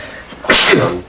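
One loud, close sneeze bursts out abruptly during a town selectmen's meeting, a sharp breathy blast that fades within a second.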